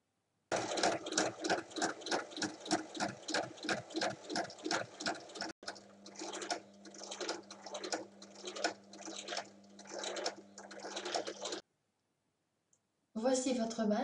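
Sewing machine topstitching all four sides of a fabric mask, fast regular needle clatter in two long runs separated by a short break, close and clear, with a brief pause of silence near the end.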